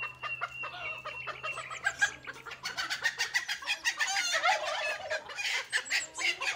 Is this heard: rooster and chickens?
yes